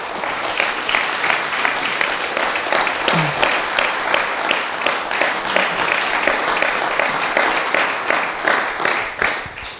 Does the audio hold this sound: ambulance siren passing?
no